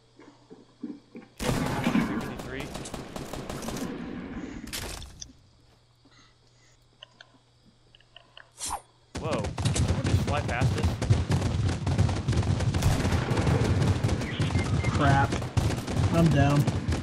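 Gunshots in Fortnite: a short burst of rapid fire, a quiet lull, then a long stretch of sustained automatic gunfire, loud and close, with game effects in the background.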